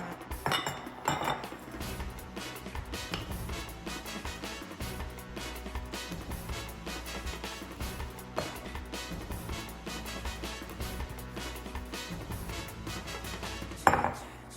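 Dry macaron mixture is sifted between mixing bowls, a continuous rattling scrape and clink of a sieve against bowl rims, steady and close with occasional louder knocks.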